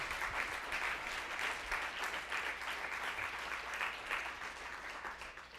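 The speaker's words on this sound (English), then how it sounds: "and I need you to clap for that." An audience at a talk breaks into steady, even applause that continues for several seconds before easing slightly at the end, with no talk over it.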